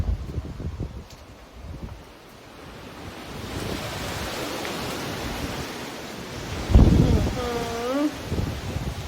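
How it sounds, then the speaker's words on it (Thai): Wind and surf along the coast at Agia Marina as a storm approaches, a steady broadband roar of gusts and breaking waves, with a voice talking over it and a louder gust or thump near the end. "พายุกำลังมาค่ะ"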